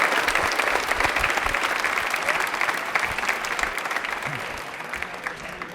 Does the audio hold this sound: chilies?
no